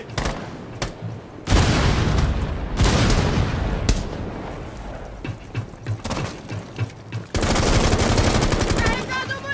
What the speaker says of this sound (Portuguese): Lançando frag!